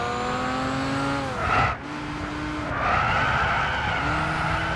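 Car in Gran Turismo 6 skids and spins out, engine revving with a sustained tire squeal that rises, breaks off briefly, then screeches again over the droning motor.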